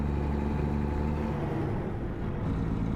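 Simulated heavy truck engine in American Truck Simulator, a steady loud low rumble with continuous drone throughout, no talking.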